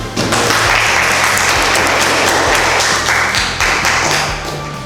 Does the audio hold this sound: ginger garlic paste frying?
no